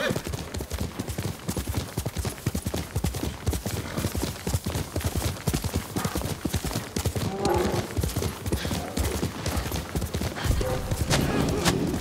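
Horse hooves clip-clop in a steady, rapid gallop rhythm across the whole stretch, loud and close, ridden by a samurai in the video game Ghost of Tsushima, with no talking over it.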